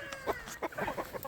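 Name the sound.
chickens clucking in breeding coops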